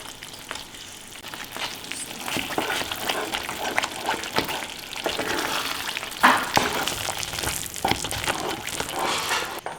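Banana halwa cooked with ghee is stirred in a pan, giving a steady soft sizzle with irregular scraping strokes throughout, close and fairly loud, with no talking.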